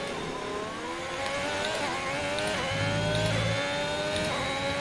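An F1 car engine in the F1 2021 video game screams and drops through the gears while braking into turn one, rising and falling revs with sharp shifts, loud and steady with no voices.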